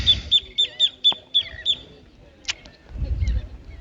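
A bird calls outdoors in a quick series of about seven sharp, bright chirps, then falls silent, leaving faint low rumbling and a couple of brief clicks behind.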